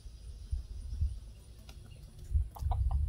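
Chickens cluck softly in a garden, a few short low calls scattered through the clip alongside faint rustling, fairly close but quiet, with no one speaking.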